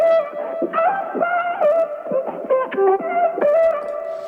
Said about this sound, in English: this is basically to give it a little bit of a pumping effect